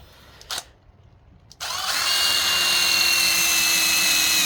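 A power drill spins up during wiring work on a 1936 Oldsmobile, a loud, steady whirring drone that kicks in abruptly after a brief quiet pause and a short scrape, then holds continuously.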